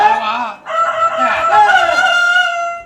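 A rooster crows loudly and close by, one long drawn-out call after a brief opening note.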